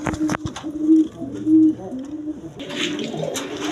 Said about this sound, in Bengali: দর্শকবৃন্দ এখানে এক পেয়ার কবুতর আছে দেখেন